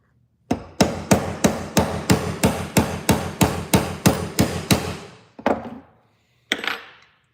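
A Pittsburgh hammer strikes a metal punch about a dozen times in a steady, ringing rhythm, then two more separate blows after a pause.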